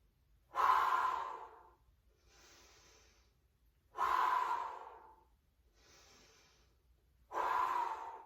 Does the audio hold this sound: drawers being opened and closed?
no